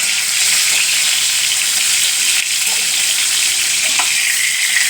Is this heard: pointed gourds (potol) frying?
yes